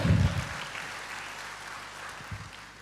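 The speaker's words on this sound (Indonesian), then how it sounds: "Yang percaya berikan tepuk tangan bagi Tuhan." A church congregation applauds briefly, a soft wash of clapping that fades gradually, with a low voice-like thump at the start and another near the end.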